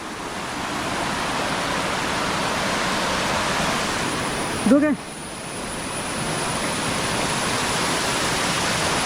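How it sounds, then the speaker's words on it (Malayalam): A mountain stream and waterfall on a rocky hillside roar in a constant, dense rush of water, steady and loud, briefly interrupted by a short spoken word midway. "ഈ തോടിൻ്റെ എരമ്പലാണ് നമ്മൾ ആ മേളിൽ നിന്ന് കേട്ടത്."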